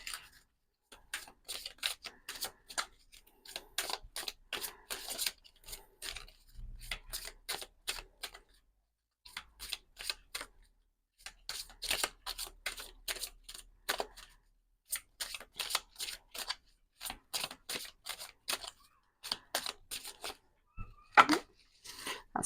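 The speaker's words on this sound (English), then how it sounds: "I'm going to pull you an Angel of Abundance Oracle card as well" Angel of Abundance oracle cards being shuffled and pulled, a long run of quick papery riffles and slaps in repeated bursts with short pauses, fairly quiet and close, with no talking.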